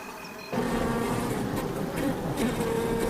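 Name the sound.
bees in a hive being raided by a honey badger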